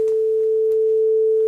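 A pure sine-wave tone on the note A, a steady, unwavering hum held at even loudness for under two seconds, heard alone with no voices.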